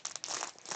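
A plastic bag from a crochet kit crinkles and rustles in short bursts as it is handled and opened, close by, with no talking.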